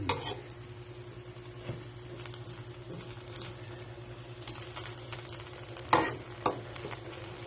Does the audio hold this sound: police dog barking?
no